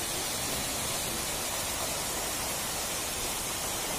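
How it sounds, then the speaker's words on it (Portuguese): Véu das Noivas waterfall, 70 metres high, pours with a constant, broad rushing roar, steady and unbroken throughout with no voices. "E aqui é a cachoeira."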